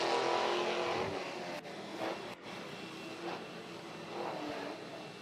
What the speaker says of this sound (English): You can hear him just clutch kicking the car, trying to get the last few laps out of those rear tires.